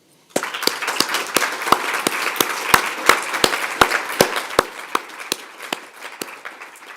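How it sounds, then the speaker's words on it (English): A conference audience applauds speakers and panelists with a sparse, rhythmic clap pattern: a few loud, sharp, evenly spaced claps stand out over softer scattered clapping that fades gradually. "have a big round of applause to our speakers and all the panelists"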